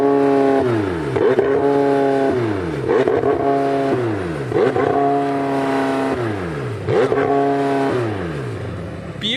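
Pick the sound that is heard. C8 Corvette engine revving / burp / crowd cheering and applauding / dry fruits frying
C8 Corvette engine revving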